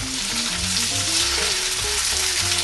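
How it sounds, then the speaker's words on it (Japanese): Tofu searing untouched in a hot frying pan, a loud, dense and steady sizzle that stays up close and constant throughout, with no voices over it. "フライパンのぬくもってきたら、まずはお豆腐。"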